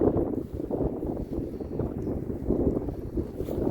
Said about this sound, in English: every single time the wind blows, and you can see how much it's blowing now